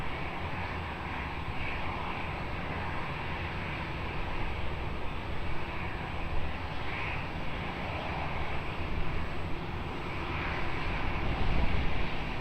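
Jet airliner landing on runway 20 at Lisbon Airport, a broad steady engine roar heard from a distance that swells slightly toward the end, continuous and unbroken with no talking.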